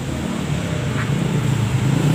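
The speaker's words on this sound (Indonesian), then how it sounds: "Kok ternyata truk pengangkut jagung PT." A corn-hauling truck rumbles past with a steady low engine drone, moderately loud and continuous, with no voices over it.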